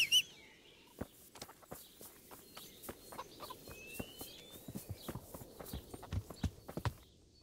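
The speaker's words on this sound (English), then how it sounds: "So we'll just hop on the horse." A horse's hooves clip-clop steadily over ground in the video game Kingdom Come: Deliverance, the rhythmic beats fairly quiet and mid-distance, with faint bird calls in the background.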